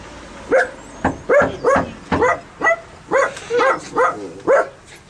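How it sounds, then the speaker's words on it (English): A dog barks about ten times in a fairly steady rhythm, close and clear, with a few higher yips mixed in. "I can hear the dog barking,"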